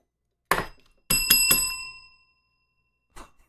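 A small bell rings close up, two or three bright metallic dings with a lingering ring, preceded and followed by short clunks.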